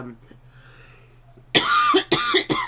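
A person coughs and clears their throat from brush fire smoke, a few harsh, close bursts in quick succession after a quiet stretch.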